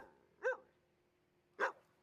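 A campus stray dog barks twice, short sharp yaps about a second apart, fairly faint and a little distant against a quiet background.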